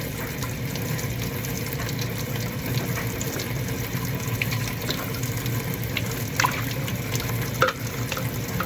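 A steady stream of water runs from a tap, a continuous hiss and splash with a few faint clinks mixed in.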